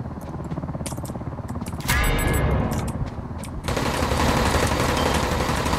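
Gunfire in the video game Ring of Elysium: loud, close bursts of rapid automatic shooting that run almost without pause, ending in dense sustained fire.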